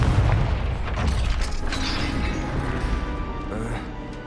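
A Confringo fire spell in Hogwarts Legacy blasts a gate with a loud booming impact, followed by rumbling, crashing debris and mechanical clatter under continuous game noise.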